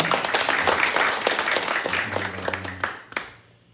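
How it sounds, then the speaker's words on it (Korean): A church congregation claps together in a burst of applause that is strong at first and then thins into scattered claps, tapering off to quiet with a few final claps. "다시 한번 하나님께 영광의 박수 올려드리겠습니다."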